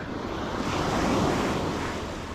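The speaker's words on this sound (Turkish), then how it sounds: "Tabi dalganın olması bizim için biraz kötü." Sea waves break on a chilly autumn shore during a morning fishing trip in Turkey, a continuous loud wash of surf mixed with wind buffeting the microphone, with no voices.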